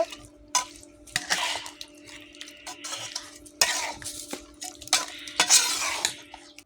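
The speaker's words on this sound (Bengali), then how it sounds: "এখন ভালো করে নেড়ে দেব।" A spoon stirs goat head curry in a cooking pot after ground garam masala is added, giving repeated scraping and clinking strokes with a soft sizzle underneath, close by and without speech.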